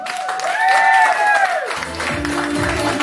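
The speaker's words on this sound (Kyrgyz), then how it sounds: "Анда эмесе кол чаап коелу." Applause from a celebration-feast audience during a game-show-style contest swells into a dense, steady patter after a short run of rising and falling tones, filling the rest of the moment at a moderate level.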